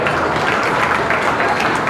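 Audience at a county fair beef show ring claps for the cattle exhibitors, a steady, loud, continuous patter of applause filling the whole stretch.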